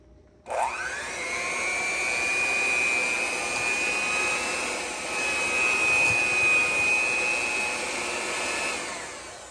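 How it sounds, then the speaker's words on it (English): An electric hand mixer whirs steadily at close range for several seconds, starting abruptly and holding a loud, high motor whine with slight shifts in pitch, used while making old-fashioned Appalachian tomato soup. "Alright, hand mixer and hope for the best."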